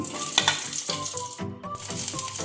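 Cumin seeds and onion frying in butter in a pan, the base for a tomato soup, giving a bright crackling sizzle with occasional stirring clatter and no talking.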